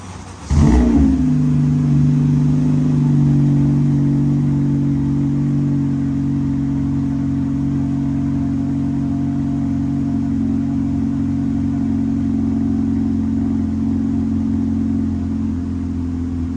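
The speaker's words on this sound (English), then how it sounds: "give y'all a cold start of the 9th Gen Accord" 2017 ninth-generation Honda Accord engine on a cold start: a short cranking burst, then the engine catches, flares to a high idle and settles into a steady, loud hum that eases slightly over time.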